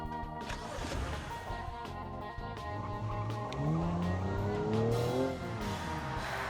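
An engine revs and pulls through gears during a driving safety test in BeamNG.drive, pitch sweeping upward in a strong climb midway before easing off, moderately loud with faint tire noise.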